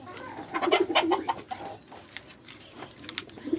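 Palm doves flutter and coo close by, a string of soft rounded coos bunched together, then scattered wingbeats and rustling at a low level.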